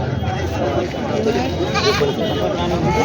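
Goats bleat amid a crowded sheep and goat market at Jawla in Maharashtra, several wavering calls rising over a busy din of people talking nearby.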